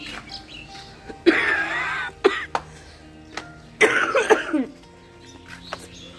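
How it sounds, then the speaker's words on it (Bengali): Someone nearby coughs in a few harsh bursts and clears their throat, separated by quiet pauses on an open rooftop with faint bird chirps. "কথার মাঝে মাঝে একটু পরে পরেই কাশির ইয়ে শুনতে পাবে"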